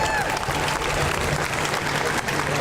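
An audience at a rally applauds a congressman, a dense, steady burst of clapping from a crowd with some voices mixed in.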